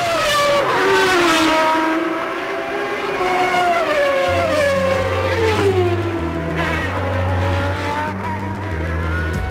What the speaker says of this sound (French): les deux Ferrari remontent sur les retardataires